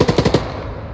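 A rapid burst of about five loud, close automatic gunshots cracks out in Arma 3, then fades into a short echoing tail.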